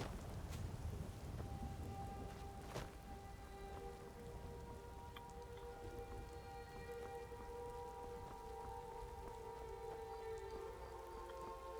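Steady rain falls in Skyrim, an even broadband hiss of drops on surfaces that runs unbroken throughout, with a low rumble beneath and faint tonal game music drifting in the background.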